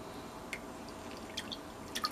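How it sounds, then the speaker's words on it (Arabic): Lemon juice squeezed into a pot of water with cumin: a few small, faint drips and splats land at scattered moments over a low, steady background, with no talking. "بعدين راح اعصر ليمونه"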